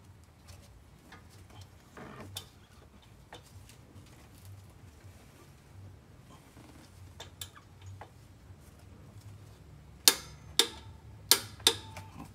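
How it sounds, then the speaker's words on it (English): A torque wrench tightens an upstream O2 sensor on an 8th-gen Honda Civic Hybrid, giving a run of four sharp, close clicks near the end after quiet faint handling noises. "Got our torque wrench and our O2 socket set in."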